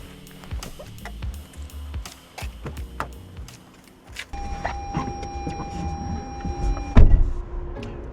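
A power rear window screen in a 2016 Lexus ES300h sedan whirs steadily as its motor runs, after some clicks and handling noises, and ends with a firm thunk.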